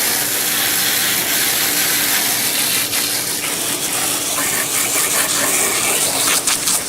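Water gushes steadily and loudly from a garden hose being used to try to clear a clogged, dirty fixture, a continuous close rushing spray with slight gurgling surges near the end and no talk.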